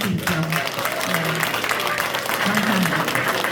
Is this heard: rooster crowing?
no